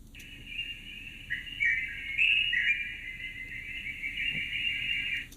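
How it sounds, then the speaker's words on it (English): Birds call in a natural habitat soundscape, a continuous bright chirping chorus layered over one another at moderate distance, with soft ambient background and no talk. "And then birds down here."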